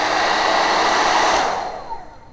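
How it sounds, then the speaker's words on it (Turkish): A Xiaomi Mi ionic hair dryer runs on its high setting with a steady, close, loud whoosh that tapers off near the end as it winds down. "ikinci katmanda çalıştırdığınızda saçınızı sıradan saç kurutma makinelerinin yanında çok daha hızlı kurutuyor ve olabildiğince sessiz çalışıyor"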